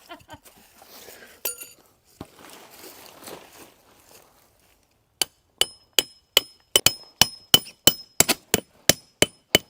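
An axe head knocking tent stakes into the ground while setting up a car tailgate tent at a campsite, first soft rustling and scattered taps, then a run of about a dozen sharp, ringing metallic strikes in quick, steady rhythm, close by.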